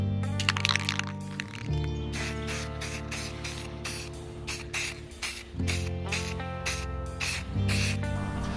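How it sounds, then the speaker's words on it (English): Aerosol spray paint hisses in long bursts while coating a wooden stand base in gloss black, with short gaps between passes and a nearby rattling can sound, close and steady. "So we've got our base all sprayed up in that gloss black."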